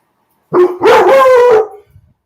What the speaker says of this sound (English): That's the dog barking at nothing.